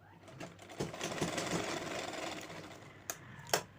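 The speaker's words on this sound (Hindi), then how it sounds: "अब एक साइड में हम उस पर सिलाई लगा देंगे" A sewing machine stitches elastic into a side seam of an old kurti, a steady close whirring run of about two seconds followed by a couple of sharp clicks.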